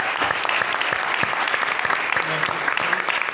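Loud, dense audience applause at a school board town hall, honouring the district's leadership team and staff; sharp individual claps stand out in a continuous wash throughout.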